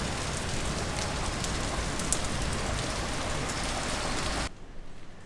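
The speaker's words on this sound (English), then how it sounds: "outside it's raining a lot" Steady, dense downpour of heavy rain drumming on surfaces in Castellammare del Golfo, Sicily, loud and continuous, then abruptly cutting off near the end.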